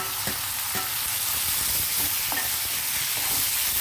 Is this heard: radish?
yes